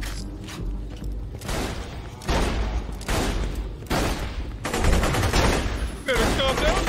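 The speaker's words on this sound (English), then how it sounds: "Let me shoot this explosive gas tank" Gunfire in Borderlands 2 as an explosive gas tank is shot: a run of loud, heavy shots and booming bursts over several seconds, close and dense, with a voice heard briefly.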